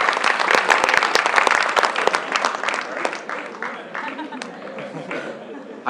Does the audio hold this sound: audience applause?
yes